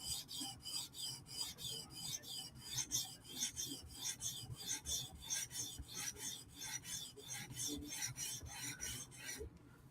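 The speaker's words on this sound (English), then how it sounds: "So we're just doing forward strokes, keep our scratches lined up." A Hinderer knife blade drawn in forward strokes across a sharpening stone, a rhythmic series of about two dozen close scraping rasps, evenly paced and with nothing else over them.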